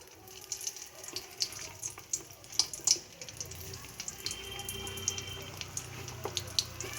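Nimki dough strips go into barely warm oil over a low flame, making a soft, watery bubbling with scattered small crackles that grows slightly fuller partway through.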